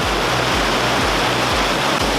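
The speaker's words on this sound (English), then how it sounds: "It's kind of loud in here with the rain." Rain falls on a Jeep Wrangler, heard from inside as a loud, dense, continuous rush of noise with a pulsing low rumble beneath. No one talks.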